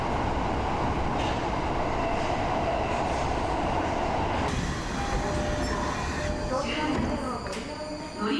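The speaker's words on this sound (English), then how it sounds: "we just took a train out early in the morning." Train carriage interior on an early-morning day trip out of Tokyo, Japan: a steady dense rumble with a shift partway through as wheels and track noise change, some faint squeal and clatter, with voices murmuring underneath.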